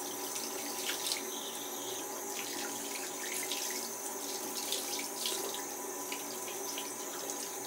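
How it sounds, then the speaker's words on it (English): A tap runs steadily into a sink while a shaving brush is rinsed under it, a constant close hiss of water with small splashes and drips, with no voices. "just leave that on my face while I rinse my brush out"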